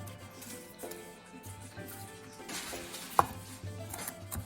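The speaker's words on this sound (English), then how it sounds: "Everything else gets chopped up together." Knife chopping ingredients for a pork pie on a board, a series of soft, close taps in irregular bursts with one sharper knock, quiet kitchen background and no talking.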